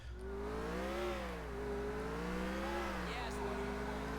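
A car engine in the video game GTA 4 hums steadily while driving, its pitch rising and falling gently as it shifts through revs, fairly faint with no talk over it.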